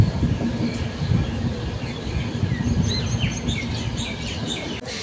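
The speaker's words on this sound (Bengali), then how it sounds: "আমাদের ট্রেন এসে থামলো নৈহাটিতে" An express train rolls into Naihati station with a low rumble and clatter of wheels under the coach, while birds chirp faintly from the platform side, and no one speaks.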